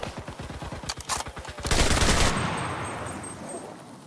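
Rapid automatic gunfire in a video game firefight, a dense run of loud close bursts followed by a heavy sustained blast that slowly fades, with no talking.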